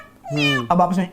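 A man imitates a cat's meow up close and loud, one drawn-out wavering meow followed by a short second cry, with a few of his spoken words mixed in.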